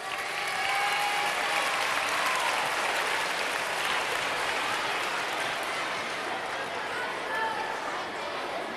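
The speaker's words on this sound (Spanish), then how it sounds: "Ah, un aplauso para Ainhoa!" Concert hall audience at a children's classical music show gives a loud, sustained round of applause for a young girl called up on stage, with a voice calling out over the clapping.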